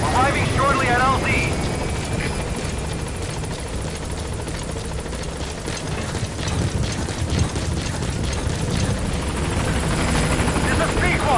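Pequod, a video game helicopter in Metal Gear Solid V, arriving at a landing zone: a loud continuous rotor roar with rhythmic blade chop, close and dominant throughout, with a radio voice over it.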